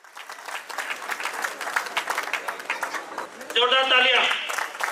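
A hall audience at a cooperative credit society's annual meeting claps steadily throughout, a dense broadband patter with talk running underneath and a voice rising louder near the end.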